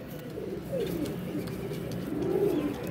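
A newly acquired pigeon coos softly in a few low, rolling phrases, close by and fairly quiet, with no talking over it.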